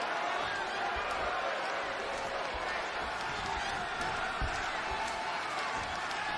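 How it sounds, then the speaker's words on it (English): A big Tokyo wrestling arena crowd in a WWE 2K20 video game roars continuously in a dense wash of noise, with occasional dull thuds rising out of the din. "just listen to this Tokyo crowd"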